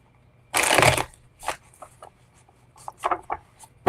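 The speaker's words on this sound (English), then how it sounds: "what do the cards have to say here? Give these a quick shuffle" A deck of tarot cards being shuffled by hand at close range, with one loud riffle burst followed by several shorter, softer shuffling and tapping sounds.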